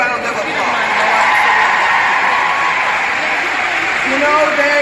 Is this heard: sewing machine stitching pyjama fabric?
no